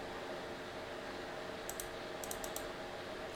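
Quick pairs of sharp computer mouse clicks sound over a faint, steady hum, several doubled clicks bunched close together near the end.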